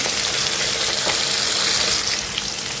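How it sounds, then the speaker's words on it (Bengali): A steady, loud sizzle of fish frying in hot oil, continuous crackling and hissing close by with no voices. "তো মাছটা কিন্তু ভাজা হয়ে গেছে"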